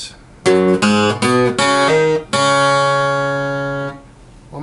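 A 12-string guitar plays the intro of a song: a few quick, bright plucked notes and hammer-ons, then a final chord left ringing and fading, close and clear with no talking.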